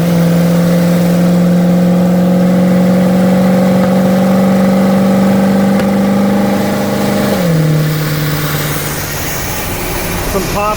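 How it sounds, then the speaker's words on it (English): Engine of an RV with no hood, droning loud and close at a steady high pitch, then the pitch drops and some sputtering pops follow, with a voice talking over it. "Some pops there, but secondaries opened if you could hear them."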